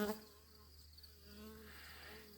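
Yellow jacket and honeybee buzzing close by during honey pulling, a faint steady insect drone with a brief louder burst at the start, no talking.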